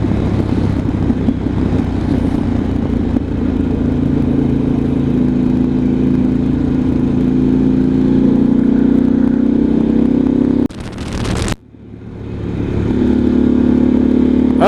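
A Moonshiner 28 motorcycle rumbles loudly nearby while riding at night, its engine droning steadily, briefly dropping out near the end before the roar builds back up.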